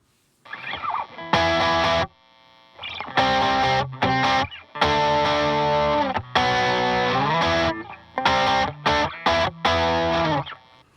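A Stratocaster electric guitar on the middle pickup position, played with reverb off and some distortion, rings out in a series of sustained chords and notes separated by short silences, loud and close.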